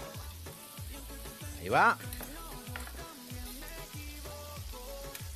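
Cold pilaf rice sizzles and crackles as it is sautéed in a frying pan, a steady close frying sound under background music, with a brief spoken remark.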